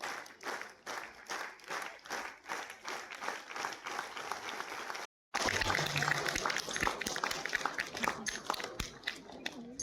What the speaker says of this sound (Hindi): आप तमाम अतिथियों जोरदार ताली।